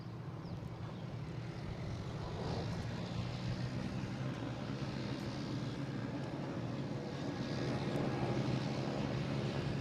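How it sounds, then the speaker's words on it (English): A JetBlue Airbus A220 jet takes off at Boston Logan International Airport, a distant, faint engine roar swelling steadily over broadband airport background noise. "We got a JetBlue taking off,"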